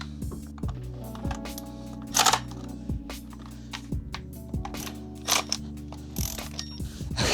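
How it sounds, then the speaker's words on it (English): A ratchet clicking on a spark plug socket of a BMW N54 engine, close and crisp, with a run of sharp metallic clicks in short bursts and a few louder clacks, no talking. "I'm gonna hit this with a ratchet."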